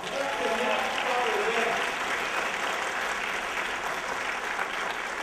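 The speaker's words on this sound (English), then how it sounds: "Let's give that choir another round of applause." An inauguration audience applauds a choir, a dense even wash of many hands clapping at moderate distance, steady for the whole stretch with faint voices mixed in.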